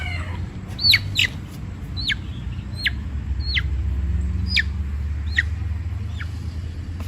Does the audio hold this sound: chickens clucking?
yes